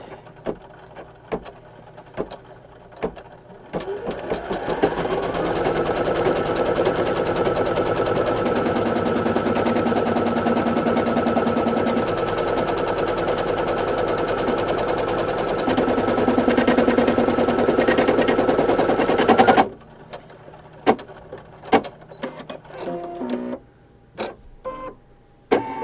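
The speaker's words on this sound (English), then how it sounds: "we're going to run a placement stitch" A home embroidery machine threaded with green thread runs a placement stitch on fabric in a 4x4 hoop. It makes a steady, loud rapid whirring chatter for about fifteen seconds, then stops, and a few clicks and taps follow.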